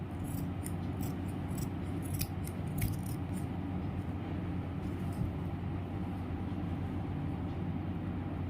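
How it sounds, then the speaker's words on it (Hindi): Scissors snip away excess net fabric while making a dress for a Laddu Gopal idol, a few quick, crisp cuts clustered early over a steady low background rumble. "एक्स्ट्रा नेट काट लेंगे।"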